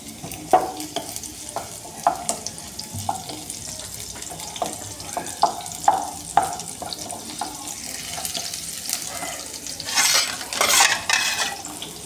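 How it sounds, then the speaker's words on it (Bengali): Onion fries in oil in a kadai, a low steady sizzle under repeated sharp scraping and stirring strokes of a spatula, with a louder burst of sizzling near the end and no voices. "পেঁয়াজটা অল্প ভেজে নেব।"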